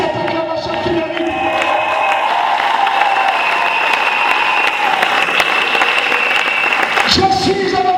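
A church congregation applauds and cheers steadily and loudly throughout, a dense wash of clapping and voices with a few shouts rising near the end.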